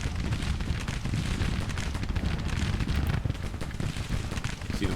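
Cannon artillery fire in a Civil War battle from the strategy game Grand Tactician: The Civil War, heard as a dense, continuous roar of distant booms and rumbling volleys blending together without pause.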